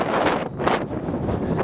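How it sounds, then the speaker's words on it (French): Wind on a high mountain pass near Muztagh Ata on the Silk Road in China, gusting in strong buffeting bursts that rumble against the microphone, close and loud, without speech. "Par contre là-haut il y a souvent du vent."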